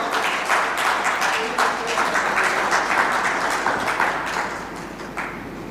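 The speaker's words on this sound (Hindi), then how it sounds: "मेरी इस थकान के लिए एक बार जोरदार तालियां बजाइए" Audience applause at a Hindi humorous poetry gathering, a hearty burst of clapping from the assembled crowd that holds steady for several seconds, then fades, with faint voices mixed in.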